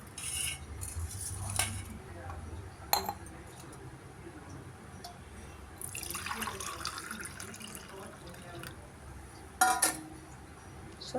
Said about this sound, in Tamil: இதை இதில் போட்டு மிக்ஸ் பண்ணிக்க வேண்டியதான்.